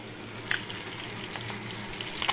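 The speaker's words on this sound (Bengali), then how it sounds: "এই দেখো কেমন করে মাছের কাঁটাগুলো আমি ভাজা করে নিয়েছি, লাল লাল করে" Fish bones frying in hot oil give a steady, close sizzle with scattered sharp crackles and pops throughout, with no talking.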